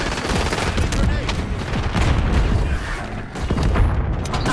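Heavy video-game gunfire in a tactical soldier shooter, dense bursts and booms crowding together with a grenade blast somewhere in the mix, loud and continuous throughout.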